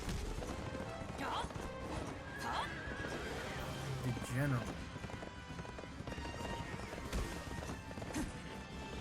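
A horse whinnies amid steady galloping hoofbeats and busy background action in the video game Berserk and the Band of the Hawk, with a voice speaking briefly over the commotion.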